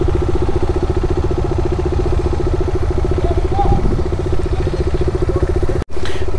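A motorcycle engine idles steadily and close by on a Konkan coast ferry as bikes are loaded, a constant mid-pitched throb with a brief cutout near the end, with talk faintly in the background.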